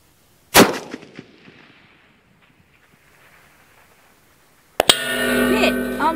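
A single loud gunshot cracks close by and fades into a low rumble; after a few quiet seconds a metallic ring from the struck steel target plate follows.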